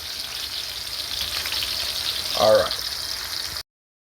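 Food sautéing in a pan for a black bean, corned beef and coconut rice dish, a steady close sizzle and crackle throughout, with a brief voice-like burst near the end before it cuts off.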